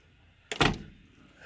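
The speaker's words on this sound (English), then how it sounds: "So the door, I expect, will close very nicely." A BMW 2002 car door, refitted with new seals, shuts once with a single solid thunk close by, then the sound quickly decays into a quiet room.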